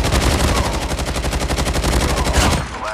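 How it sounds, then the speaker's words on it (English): Rapid automatic gunfire rattles continuously in Call of Duty Mobile gameplay, loud and dense bursts of shots for nearly three seconds before tapering off abruptly. "I hear gunshots. Oh, they're shooting."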